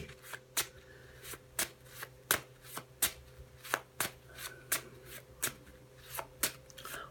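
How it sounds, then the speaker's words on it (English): Tarot deck being shuffled by hand, a steady series of crisp, close riffling snaps and slaps about twice per second, with faint room hum and no talking. "Okay, so give them a shuffle."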